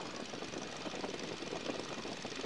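The engine of a 1942 Boeing Stearman biplane runs at about 1,200 to 1,300 RPM during a magneto check, a loud, steady, rumbling radial drone with propeller roar and no pauses.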